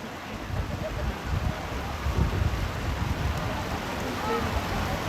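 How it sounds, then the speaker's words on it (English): Heavy rain falls on an outdoor high school boys' rugby match in Indianola, a broad, steady hiss with wind rumble buffeting the microphone throughout. "the rain is really coming down now."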